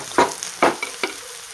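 Potatoes being stirred in a frying pan, with three loud scraping strokes over a light sizzle, close up and without speech.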